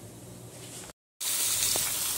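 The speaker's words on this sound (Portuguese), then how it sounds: "Tô fritando aqui as carnes" Meats for feijoada sizzle in a hot pan with a steady, bright hiss, briefly cut off by a moment of silence before resuming louder.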